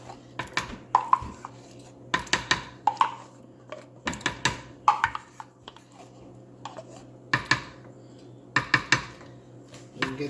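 A spoon scrapes and clinks against a pot while stirring tomato paste into sauce. The close metallic taps and knocks come in irregular bursts over several seconds, with no talking.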